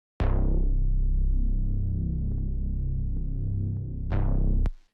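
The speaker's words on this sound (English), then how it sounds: "And that's basically it for that bass, and that sounds like this" A deep synth bass note starts with a sharp filtered attack that quickly closes into a low throbbing tone, then retriggers near the end.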